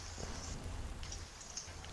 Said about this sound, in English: I'm cold and wet because it's now raining.